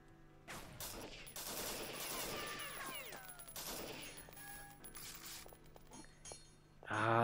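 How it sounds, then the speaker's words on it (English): Gunfire rains down from above in The Citadel video game, a busy cluster of shots and sharp metallic clinks that fades out before a final loud burst at the end. "I don't like being shot at from above"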